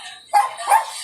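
A couple of dogs bark twice in quick succession at night, fairly close, with a steady background hiss between the barks.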